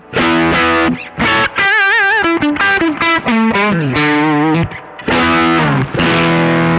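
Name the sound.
electric guitar through amp, natural gain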